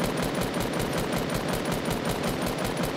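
Video game gunfire: a rapid, steady stream of automatic shots in fast repeating bursts, loud and unbroken from start to finish with no voices over it.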